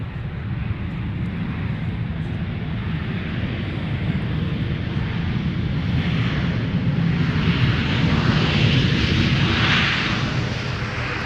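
An airliner takes off from runway 17 at Minneapolis–St. Paul airport, a steady, loud broadband engine roar that swells slightly toward the end, with no voices over it.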